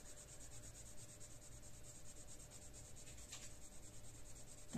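A coloured pencil shading on paper with a soft, steady scratching rub, faint and close, pressure varying between harder and lighter strokes, no talking.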